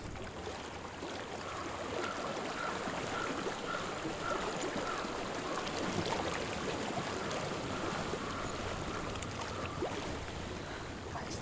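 Steady flowing water in Hellblade: Senua's Sacrifice, a continuous moderate rush of a stream or river with no talk, holding an even level throughout.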